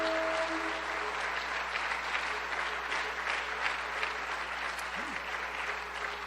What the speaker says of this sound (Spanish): Fuerte el aplauso a Dios. Fuerte el aplauso a Jesús.